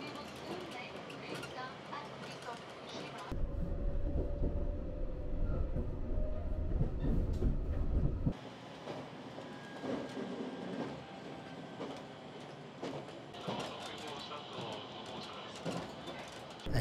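Inside a moving Japanese limited express train between Shinjuku and Nagoya: a steady rumbling hum with a heavier low roar in the middle stretch, faint clatter and squeal over the ride.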